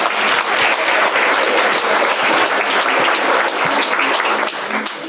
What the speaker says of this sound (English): a big round of applause to Jen, Dee, and all of the women who are in business